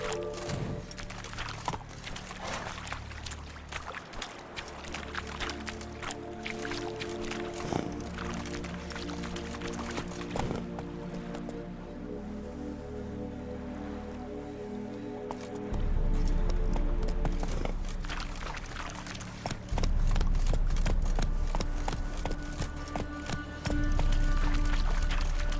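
Roach, a horse in The Witcher 3: Wild Hunt, gallops with rapid rhythmic hoofbeats, and a low rushing rumble swells in the second half. Music plays underneath, and a voice briefly urges the horse on.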